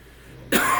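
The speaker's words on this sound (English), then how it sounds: "Very sorry for the coughing" A single short, harsh cough bursts out close after a moment of near silence.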